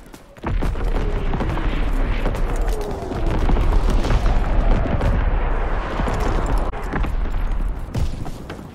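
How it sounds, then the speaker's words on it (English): Incoming enemy artillery fire in Call of Duty: WWII on the London Docks map, a continuous loud rumble of booms and gunfire layered together without pause, with no voices. "Incoming enemy artillery! Get to cover!"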